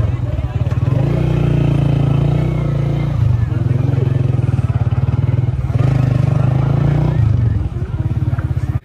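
A motorbike carries goat kids to a mini zoo, its steady, loud engine drone continuing throughout with rattling and wind noise. People talk over the engine.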